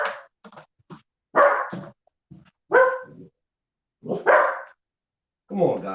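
A dog barks in short, loud bursts at a rural home, five separate barks spaced by brief silences, close by and alone.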